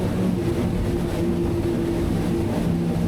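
Technohull Alpha 40 powerboat motors at cruising speed, a steady loud engine drone with a constant hum and rushing wind and water noise, unbroken for the whole stretch.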